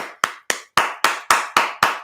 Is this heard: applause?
yes